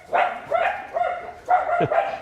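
Dogs barking in a garage-like setting near a 1915 Dodge Brothers touring car, about four or five loud, close barks in an irregular rhythm, one ending in a whine, with no talking.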